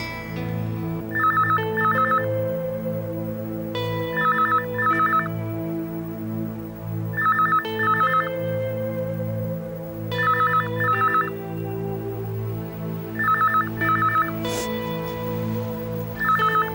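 A telephone rings in a TV drama scene, a repeating double ring bursting out in regular pairs over a background music bed, loud and close with no talking.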